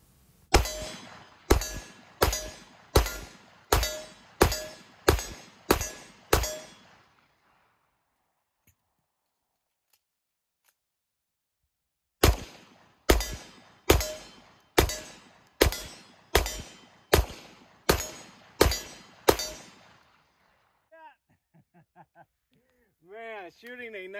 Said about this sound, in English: Shooting a 1911 9mm is so fun.